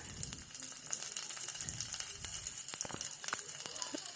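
Chopped onions, cumin seeds and curry leaves fry in a pan for potato gojju, giving a steady close sizzle laced with small crackling pops throughout, with no talking.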